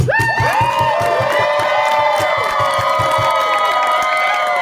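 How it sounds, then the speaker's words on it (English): An audience at a Halloween-themed improv comedy show at the Pennsylvania Renaissance Faire breaks into loud cheering and whooping, with rising shouts overlapping in a dense burst. "If Mono gets this point, give us a cheer."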